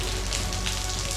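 Rain falling at Mammoth Cave, a steady wash of drops pattering on surfaces, with a low continuous rumble underneath, fairly close and even throughout the brief stretch with no talking.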